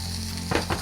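Garlic in hot oil in a pan for sweet and sour sauce, a steady sizzle with a couple of brief stirring clatters at the end.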